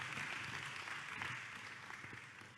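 A church audience applauds as a band comes to the stage at a Sunday service, moderately quiet clapping that gradually tapers off over a couple of seconds.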